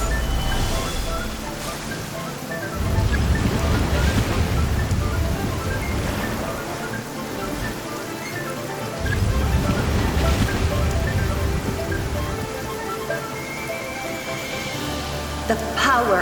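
Water attack splashing in Genshin Impact, loud surging washes of rushing water that swell and recede in two long waves with a softer hiss between them, no speech over it.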